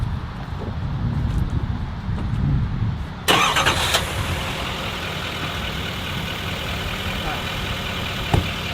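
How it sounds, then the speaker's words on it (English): A GMC Sierra 2500 HD Denali pickup truck engine cranks and catches partway through, settling into a steady idle, heard close by after some low background rumble. "I'll turn the lights on, start up the truck."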